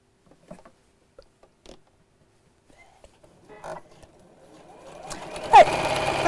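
A sewing machine quilts over stitched lines on fabric. A few soft clicks and taps come first, then the motor starts up in the last second or so, humming loud and close.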